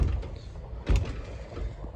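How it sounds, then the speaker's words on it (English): Doors at an abandoned shopping mall are pushed open, giving a dull low thump near the middle over a rumbling, noisy background. "those doors practically come open"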